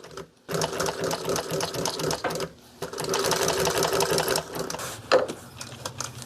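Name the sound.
sewing machine stitching a run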